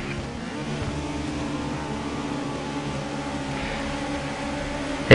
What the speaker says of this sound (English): You'll be able to hear the revs rising in just a second.